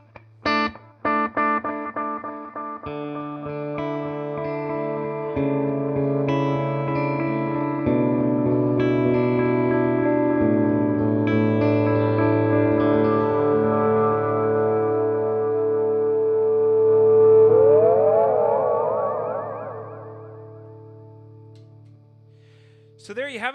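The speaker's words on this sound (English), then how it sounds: "now I'll let you hear the full length of the 600 milliseconds on the delay" Electric guitar through an EarthQuaker Devices Disaster Transport SR delay pedal set to 600 ms: picked notes and chords bloom into repeating echoes, building a dense wash that swells and warbles with modulation before fading out, loud and alone.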